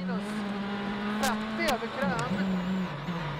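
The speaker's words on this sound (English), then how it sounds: "Back in the stage, another Mini driver is fast approaching." A Mini rally car races along a snowy stage at the WRC Rally Sweden, its engine note rising and falling through gear changes as it passes nearby, with a commentator talking over it.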